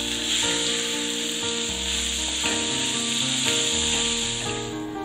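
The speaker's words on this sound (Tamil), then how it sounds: "இந்த வெங்காயம் நல்லா ப்ரௌன் கலர் வரணும், அது வரைக்கும் நம்ம நல்லா வதக்கணும்." Finely chopped medium-size onions sautéing in hot oil, giving a steady, dense sizzle that holds at an even level throughout with faint occasional stirring scrapes, close up and with no voices.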